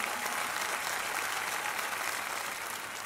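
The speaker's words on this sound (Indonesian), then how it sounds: "Boleh tepuk tangan ya." Audience applause at an Indonesia's Got Talent taping after a contestant's singing performance, a dense steady clapping that holds at an even level for the whole stretch with no voices over it.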